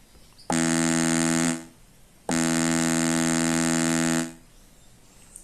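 A synthesizer sawtooth wave sounds as two sustained, bright, buzzy held tones, a short one followed by a longer one, each cutting off cleanly with quiet between.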